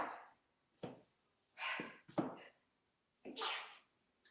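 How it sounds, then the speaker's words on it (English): Several short, muffled sneeze-like bursts, each held back and breathy, come at irregular intervals in a quiet room, faint and close with no talk. "Don't stifle your sneezes"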